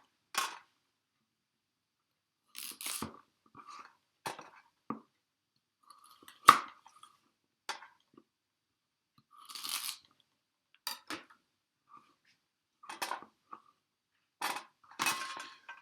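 A knife blade pressed down through a raw carrot on a cutting board, giving sharp, separate crunches and snaps spaced irregularly, with quiet gaps between cuts and no talking.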